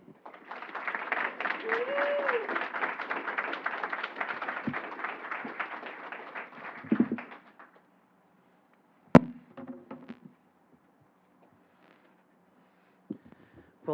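An audience at a lecture applauds to welcome Professor Gubler, with dense clapping for about seven seconds that then fades out, followed by near silence, a few scattered thumps and faint rustling.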